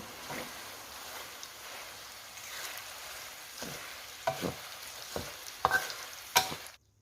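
Sago palm weevil larvae deep-frying in oil until crisp, a soft steady sizzle broken by scattered scraping clinks of a ladle in the pan, quiet and close, ending abruptly.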